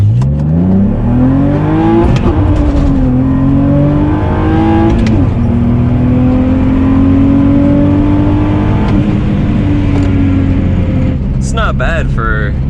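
A naturally aspirated BMW E46 pulls away from a rolling start at about 5 mph, its engine climbing steadily in pitch through the gears with brief dips at the shifts, loud and close from inside the cabin.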